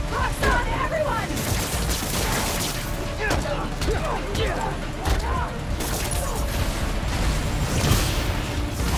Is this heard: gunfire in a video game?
yes